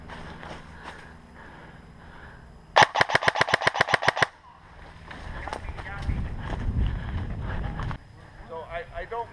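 Airsoft guns firing at an outdoor field game: a rapid burst of about a dozen sharp shots close by, with shouting and running, then muffled movement and further voices.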